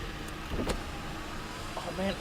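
In a 2009 Ford Crown Victoria police car, a power window motor whirs briefly as the glass rolls down, heard over cabin hum while people talk.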